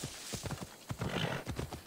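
Hooves clip-clop in a fast, rhythmic gallop from a horse in the video game Assassin's Creed Odyssey, close and clear, with a whinny-like sound partway through.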